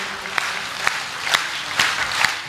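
Audience applause at a live Hindi poetry recital by a poet on stage, a steady wash of clapping from a crowd with a few sharper bursts standing out, moderately loud and continuous.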